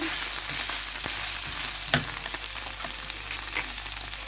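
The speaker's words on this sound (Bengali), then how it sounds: "এক টেবিল চামচ আমি দিয়ে দিলাম টমেটো পেস্ট তারপরে নাড়তে হবে মিডিয়াম আঁচে" Tomato paste frying on medium heat while a spoon stirs it through a meatball sauce, a steady close sizzle with occasional scraping clicks of the utensil against the pan.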